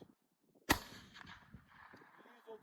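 A single sharp gunshot from a 7.62x39 AK-47 Kalashnikov round, a sudden crack followed by a short ringing tail, with faint murmuring voices around it.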